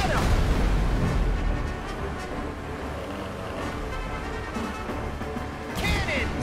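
Cannon blasts from a ship in the Kingdom Hearts III Caribbean battle, a strong boom at the start and another near the end, layered over busy, steady game sound.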